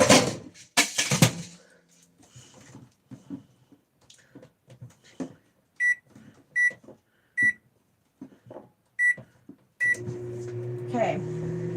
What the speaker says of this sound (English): I'm going to put it on to defrost in the microwave.